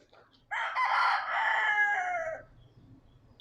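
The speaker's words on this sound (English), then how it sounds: "Chickens above your head." Free-roaming chickens perched in a tree in Key West's Old Town let out one loud, drawn-out rooster crow lasting about two seconds, heard close and clear over faint ambient noise.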